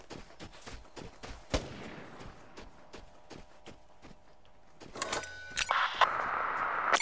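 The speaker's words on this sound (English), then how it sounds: "Caught in a mortar strike." Mortar strike explosions in the shooter game Vigor, a run of sharp, close percussive blasts and impacts, ending in a louder, denser burst of noise.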